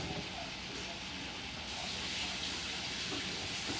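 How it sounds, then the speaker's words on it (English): Shrimp sizzle in a hot pan over high heat, a steady close hiss running continuously throughout with no voice over it. "So I'm using shrimp, and I would just saute it."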